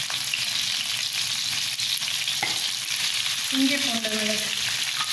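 Prawns and curry leaves fry in a pan with ridge gourd nearby, hissing steadily while a spoon stirs them, and someone speaks briefly over the sizzle.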